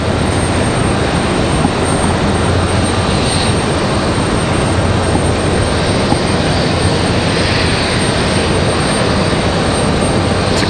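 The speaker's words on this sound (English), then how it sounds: "Good to see Air France leaving here in the daylight." Loud, unbroken jet engine roar fills ten seconds as an Air France airliner departs Raleigh-Durham International Airport, a steady rushing thunder with no voices over it.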